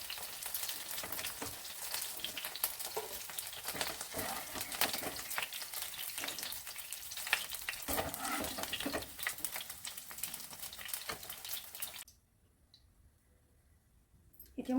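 Soya chunks frying crunchy in oil give a crackling, rain-like sizzle with scattered clicks, moderately close. It cuts out to near silence for the last few seconds.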